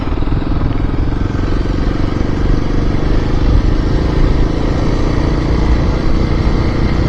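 A Kawasaki KLX 300 motorcycle with a close-ratio six-speed transmission is out on a ride, its engine droning steadily and loudly up close for the whole stretch, with wind rumble and no speech.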